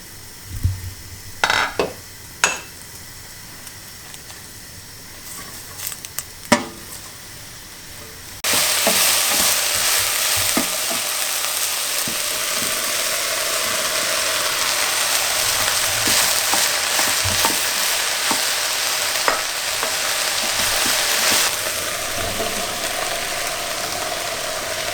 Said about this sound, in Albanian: Qesim vaj ullini. Dhe qesim qepën.